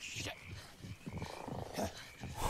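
A creature croaks in the 2024 horror film Frogman. The deep, rhythmic calls repeat in quick bursts with no talking over them.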